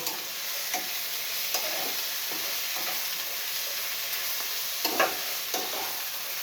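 Malabar spinach being poured onto fried onions and stir-fried in a village home kitchen, a steady sizzle with scattered scraping strokes of a spoon stirring throughout, no talking.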